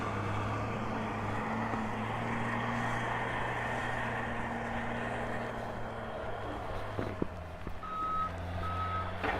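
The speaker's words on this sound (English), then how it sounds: "There's a JCB something or another working away" A JCB machine works a maize silage pit, its steady low engine drone continuous and near, with a tractor running alongside and reversing beeps sounding briefly toward the end.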